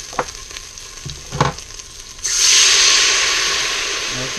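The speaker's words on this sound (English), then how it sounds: "I will deglaze with a little bit of wine" Wine poured into a hot pot to deglaze it for one-pot pasta sets off a sudden loud, sustained sizzling hiss that slowly fades, after a few soft clatters of utensils.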